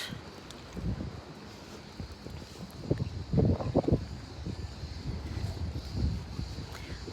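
A breeze blows at the seaside in Güvercinlik around midday, heard as uneven gusts of wind buffeting the microphone with a few louder bursts, and nobody speaks.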